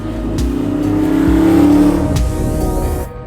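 A 1967 Chevrolet Camaro V8 revs hard up close, a loud sustained roar that climbs and holds its pitch before easing off near the end.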